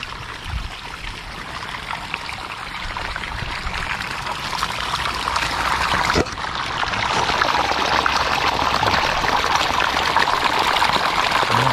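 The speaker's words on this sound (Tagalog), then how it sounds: "Malakas po yung tubig dito sa amin." Water flows steadily along an irrigation canal in a calamansi orchard, a continuous close rushing and pouring sound that grows slightly louder partway through.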